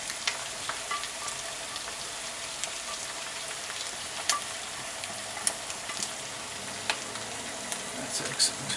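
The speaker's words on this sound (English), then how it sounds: "I'm going to add that beautiful chicken and bacon that I browned earlier" Browned chicken and bacon are stirred into a gumbo mixture, giving a soft, steady sizzle with a few light clicks and taps of the utensil, fairly faint.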